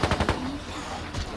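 Gunfire in a zombie video game: a quick burst of several close, rapid shots, followed by a quieter stretch and then a couple more faint shots.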